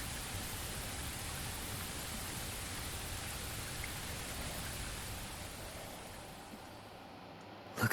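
Steady rain hisses in the Bleach Rebirth of Souls video game, an even wash of noise that slowly fades slightly before a brief louder knock at the very end.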